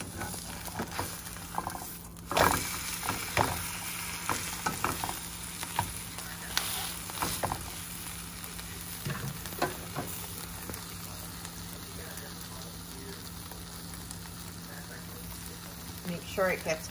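A large omelet topped with American cheese and pink Himalayan salt sizzles softly in a pan, with scattered scrapes and taps of a utensil and a voice talking at times.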